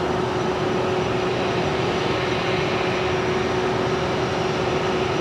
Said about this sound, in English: Such a beautiful aeroplane.